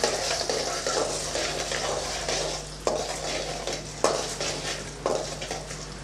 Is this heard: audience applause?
no